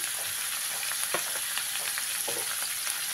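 Vegetables fry in a pan with salt, turmeric and green chilies, a soft even hiss with a few light stirring scrapes, close but quiet and without talk.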